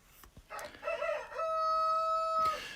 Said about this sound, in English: and the rooster.